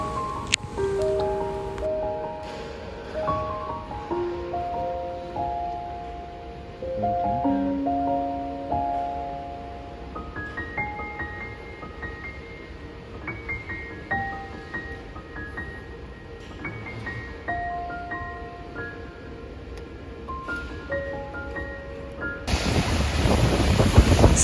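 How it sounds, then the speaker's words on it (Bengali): Heavy rain and strong, cold wind outside a railway station on New Year's Eve in Auckland, a broad rushing wash with wind buffeting the microphone, steady beneath louder music. "এত বৃষ্টিতে আর এত ঠান্ডা হাওয়া, এখানে ছাতা কোনো কাজও করবে না।"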